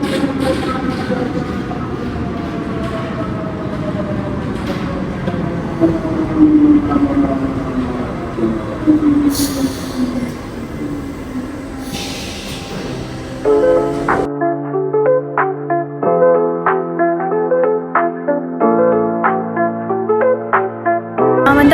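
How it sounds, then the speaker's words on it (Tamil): A train rumbles into a Paris station with a descending drone and squealing wheels, then a multi-tone electronic chime sounds repeatedly as it settles. "நம்ம வந்துட்ட உடனே ட்ரெயின் வருது பட் அந்த சைடு ட்ரெயின் வருது"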